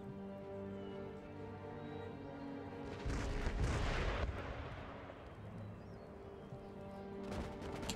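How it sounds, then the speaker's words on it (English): Artillery in Empire: Total War pounds a city wall, producing a booming barrage that swells into a loud, rumbling roar mid-clip before easing, with a further burst near the end over a steady battle music bed. "Artillery's going to engage this section of the wall"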